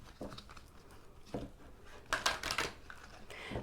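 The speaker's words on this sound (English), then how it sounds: "These ones are quite stiff. They're not actually that easy to shuffle." Stiff Soul's Journey tarot cards are shuffled by hand in a few quiet bursts of riffling and flicking, close and faint, with no talk over them.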